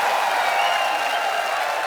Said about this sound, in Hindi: रवीना टंडन जी के लिए जोरदार तालियां